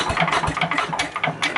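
A Sears Craftsman 9HP wood chipper/spreader engine runs at full open throttle, a loud, close, uneven roar that pulses and sputters through the short stretch.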